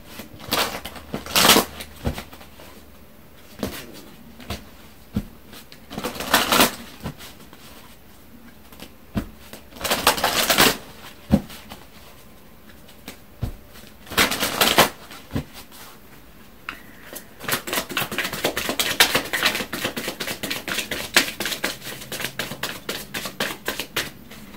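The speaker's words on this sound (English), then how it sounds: "So let me pull some Angel Oracle advice cards." Angel Oracle advice cards are shuffled in bursts of crisp riffling and flicking, separated by quieter pauses and soft handling noises, with a longer stretch of rapid shuffling toward the end.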